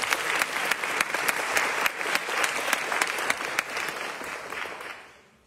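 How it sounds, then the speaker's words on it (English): Steady, fairly loud applause from a lecture audience at a university McNair lecture, continuous dense clapping for about five seconds before it tapers off quickly. "please give them another round of applause"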